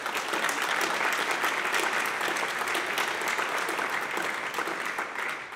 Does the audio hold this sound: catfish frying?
no